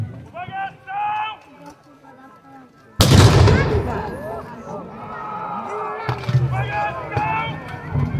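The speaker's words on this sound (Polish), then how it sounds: "Strzał, zatkaj uszy, jak chcesz." A cannon fires during a castle battle reenactment: one sudden, loud, broadband blast that decays into rumble and crowd noise, with people talking before and after.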